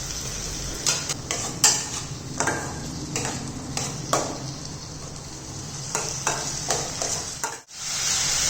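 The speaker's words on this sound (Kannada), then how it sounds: "ಈಗ ಹೆಚ್ಚಿರುವಂಥ ಟೊಮ್ಯಾಟೋನ ಈ ಒಗ್ಗರಣೆಗೆ ಹಾಕ್ಕೊಂಡು 1 ಅಥವಾ 2 ನಿಮಿಷ ಹೈ ಫ್ಲೇಮಲ್ಲಿ ನಿಮ್ಮ ಒಂದು ಚುಂಚುಗದಿಂದ ಕೈ ಆಡಿಸಿ" Chopped tomatoes stirred with a ladle into a sizzling tempering over high flame for a gravy, steady frying hiss with repeated scraping and clinking strokes of the spoon against the pan, close and fairly loud, no talking.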